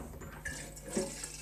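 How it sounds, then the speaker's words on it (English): Water running from a tap into a kettle, a steady soft hiss and splash with small shifts in pitch as it fills, quiet and close with no talk. "I've been filling this kettle"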